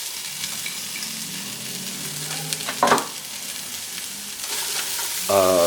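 Half a sweet onion and sprigs of green onion frying in a pan with a steady sizzle, a brief louder burst of crackle near the middle and stirring or pan clinks toward the end; no voice.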